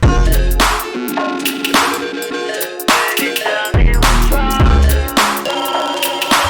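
A full music track with a deep, rounded 808 bass pulsing under drums and synths, turned down so it no longer clips, the low end cleaner and less distorted than before.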